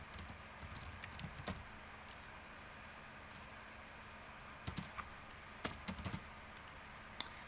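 Typing on a computer keyboard while entering a name and class for a shared school folder: scattered soft key clicks in short bursts, quiet and close, with gaps between keystrokes.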